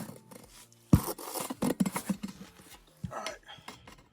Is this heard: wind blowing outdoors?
no